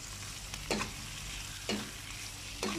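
Chili being stirred into a frying pan, with three distinct scraping stirs spaced about a second apart over a steady sizzle, close and clear.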